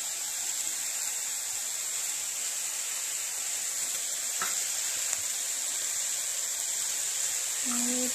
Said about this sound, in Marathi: काकडी पण टाकली आहे आपण यामध्ये, थोडीशी कोथिंबीर आणि छान परतून घेऊया आपण